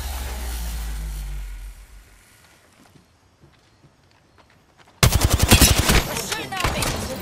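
Gunfire from an SMG in the Apex Legends video game, bursts of rapid, loud, close shots that break in suddenly after a quieter stretch holding faint footsteps and a low hum.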